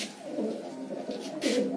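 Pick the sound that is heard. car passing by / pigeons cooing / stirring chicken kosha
pigeons cooing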